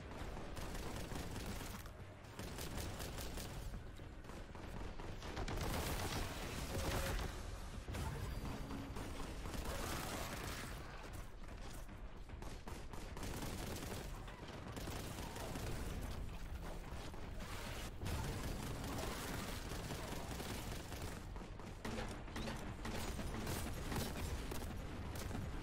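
Gunfire in Warhammer 40,000: Boltgun, rapid, dense, continuous bursts of shots and explosions filling the whole stretch, loud and relentless.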